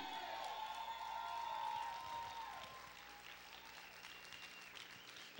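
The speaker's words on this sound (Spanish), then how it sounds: "Grita y aplaude fuerte al Rey." A church congregation shouts and applauds for the King during a worship service: fairly faint clapping and cheering under sustained musical tones, rising to a sharp burst at the very end.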